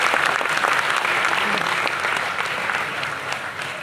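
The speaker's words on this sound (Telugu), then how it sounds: "గట్టి చప్పట్ల ద్వారా" A seated audience at a stage event in Telugu applauds loudly and steadily, dense clapping holding for a few seconds and easing slightly toward the end.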